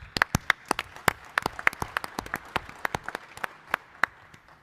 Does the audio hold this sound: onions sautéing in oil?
no